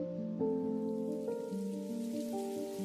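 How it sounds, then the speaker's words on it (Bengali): Heavy rain pouring outside a large house at night, a soft continuous hiss running beneath sustained musical tones throughout. "জোরে জোরে বৃষ্টি পড়তে শুরু করলো, তার সাথে মেঘের গর্জন"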